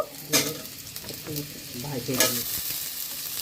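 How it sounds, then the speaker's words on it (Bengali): Potatoes and beans sizzle in a pan while a utensil stirs and scrapes them, with a couple of sharper clinks amid the steady frying hiss. "ভালো মতো নাড়াচাড়া করে নিচ্ছি।"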